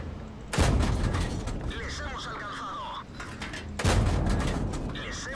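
Tank cannon from the T14 heavy tank in the World of Tanks video game fires two loud, booming shots about three seconds apart, each with a ringing tail, while someone talks over the action.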